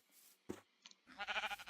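A sheep bleats in a video game, a short quiet cry broken by a few brief clicks and then a louder wavering bleat at the end.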